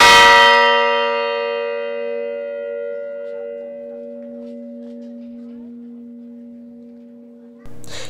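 A newly installed church bell rings out once with a bright strike, its long resonant hum fading slowly over several seconds, close and alone, before a gust of wind breaks in at the end.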